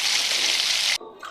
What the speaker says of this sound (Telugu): ఇంకొక గ్లాస్ వాటర్ వేసేసి